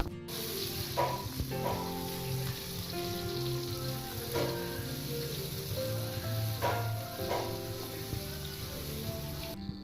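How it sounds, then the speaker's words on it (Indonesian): Tomato and chili ingredients frying in hot oil in a wok give a steady crackling sizzle, with occasional louder bursts of stirring and spattering running throughout. "Kemudian bahan-bahan yang tadi kita masukkan ke dalam wajan. Minyaknya harus sudah panas ya."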